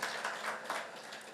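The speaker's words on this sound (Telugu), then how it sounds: "వాళ్ళందరికీ మనసారా ఒకసారి క్లాప్స్ కొట్టండి" Audience applauding together in a hall at a gathering, a steady, moderately loud wash of hand clapping with small surges throughout, no voices over it.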